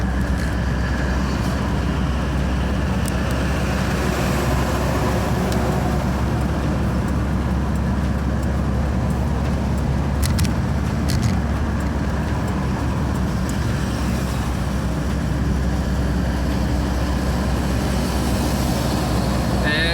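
Steady traffic roar on a busy highway in São Paulo, a continuous broadband rumble of passing cars, buses and trucks at close range, with no break in the flow.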